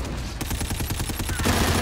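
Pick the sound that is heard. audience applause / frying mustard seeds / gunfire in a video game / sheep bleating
gunfire in a video game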